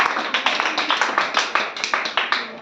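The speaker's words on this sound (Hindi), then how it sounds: "बजाओ ताली" A small group claps hands together in an even run of about a dozen sharp, close claps, while a voice murmurs faintly underneath.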